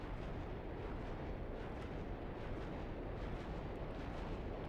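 Repeated artillery fire from a Minecraft Voltz mod launcher barrage, a dense, continuous roll of booming missile launches and blasts with no pauses, loud and steady throughout.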